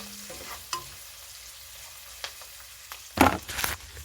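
Onions frying in a pan, a low quiet sizzle punctuated by a few clicks and a louder burst of clattering stirring near the end, close with no talking.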